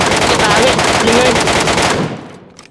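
Rapid automatic gunfire in the PUBG Metro Royale video game, a loud dense burst of shots that fades out near the end.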